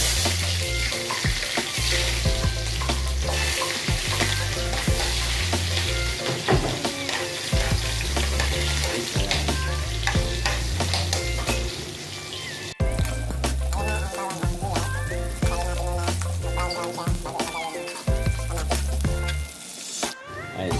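Garlic and onion sautéing together in a pan give a loud, steady sizzle with stirring scrapes running throughout, close up and without talk.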